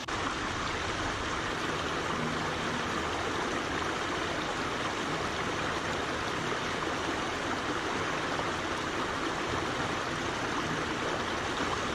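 Steady flowing creek in Shenandoah backcountry, a constant broadband rush of water running over rocks, close and continuous for the whole stretch with no voices.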